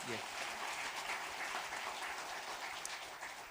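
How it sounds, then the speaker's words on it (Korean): A church congregation at a Sunday worship service applauds to welcome a visiting pastor, a faint, even patter of many hands clapping heard from a distance for a few seconds. "박수로 한번 환영하겠습니다."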